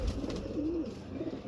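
A breeder's pigeon coos close by, one low rolling call rising and falling over a soft background hum, with no talk.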